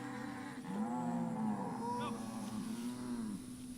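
A ranch cow grazing in an open pasture lets out a long, low, drawn-out moo, near and loud, with faint outdoor ambience behind it.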